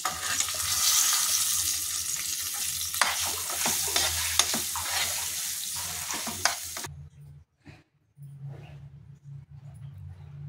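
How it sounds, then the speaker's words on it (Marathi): Ground dal and raw mango are stirred into a cooled tempering for raw mango chutney, with scraping, crackling stirring and a soft sizzle up close, then a quieter stretch of low, occasional stirring sounds. "आता आपण वाटलेले हे डाळ आंबा हे यात घालून घेऊया। एकत्र करूया।"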